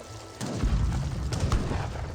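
In Age of Empires 3, ships' shore bombardment sends a deep, muffled boom rolling in after a quiet start, followed by sustained low rumbling and a couple of softer distant thuds.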